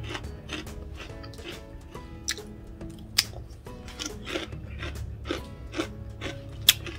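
Quiet, crisp crunching from someone biting and chewing crispy Thai lotus cookies, irregular snaps over a soft background, with no talking.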